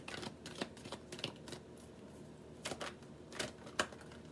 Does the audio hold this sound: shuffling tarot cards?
yes